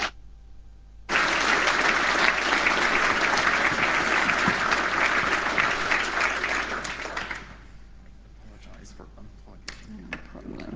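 Audience applause welcoming a speaker to a talk, a dense burst of clapping starting abruptly after a second, sustained for several seconds, then thinning into scattered claps and room noise.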